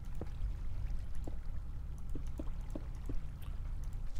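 Water flows from a fountain in modded Minecraft (Sky Factory 2.5), a steady low rushing wash with a few soft clicks scattered through it.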